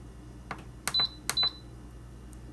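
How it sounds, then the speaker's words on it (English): An Instant Pot being set to pressure cook for 30 minutes: a few soft clicks, then two short, clear electronic beeps from its control panel, close and quiet, with no talking. "Turn it on, set it on pressure cook for 30 minutes."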